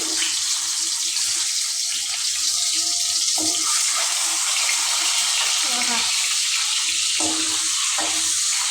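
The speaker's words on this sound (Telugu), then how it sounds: "ఇప్పుడైతే మనము ఈ ఆయిల్లో కొంచెం ఎగ్స్ ఫ్రై చేసేసుకుందాము" Eggs fry in hot oil with a loud, steady sizzling hiss throughout, broken now and then by soft clinks.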